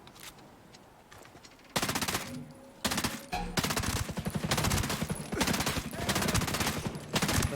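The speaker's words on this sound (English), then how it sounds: "This SMG is not really good at anything other than point blank range, but we'll make it work. Got to do those short bursts to control that recoil." Short bursts of SMG fire from the Ghost Recon Breakpoint video game, with several close, loud rattling volleys separated by brief pauses and quieter game ambience before them.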